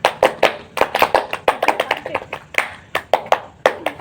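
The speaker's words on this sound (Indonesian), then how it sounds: "Sekarang 2 kali tepuk pramuka." A scout clapping pattern done twice by a group of people, crisp rhythmic hand claps in quick patterned bursts, close and loud, with no voices over it.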